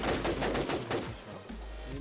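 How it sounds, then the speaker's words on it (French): Rapid gunfire aimed at the player in the video game Infestation, a dense run of sharp cracking shots in quick bursts, loud and close, with no talk over it. "Ça me tire dessus."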